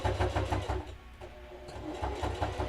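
Sewing machine stitching a fabric pot handle cover for a cast iron pan, its needle running in quick rhythmic bursts that pause briefly mid-seam and then resume at a steady close hum.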